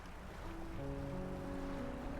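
Steady broadband wash of waves and a fishing boat engine in the game Dredge, with faint tonal hum lines appearing over the constant noise, continuous and fairly quiet, no talk.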